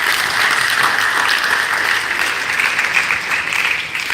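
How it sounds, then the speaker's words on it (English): Audience at a live talk event breaking into sustained applause, dense clapping filling the room steadily for several seconds with no voices over it. "Please, a round of applause."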